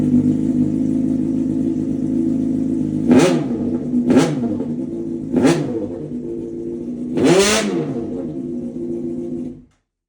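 A Honda CBR 600 RR sport motorcycle engine idles with a steady rumble and is blipped four times, each rev rising sharply and falling back before the engine cuts off.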